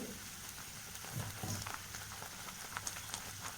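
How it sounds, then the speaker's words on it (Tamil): Onion, tomato and ginger sautéing in a pan for a soya chunks dish, a faint steady sizzle with soft crackles and a few light stirring clinks, heard alone without talk. "வெங்காயம், தக்காளி, இஞ்சி இதை நல்லா வதக்கிக்கோங்க"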